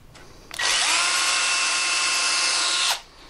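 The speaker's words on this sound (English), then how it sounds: "I always like to drill a pilot hole into the actual hinge itself so that the screw doesn't wander" Power drill boring a pilot hole into a door hinge, a single loud burst of high-pitched whine lasting about two and a half seconds, close by, starting and stopping abruptly.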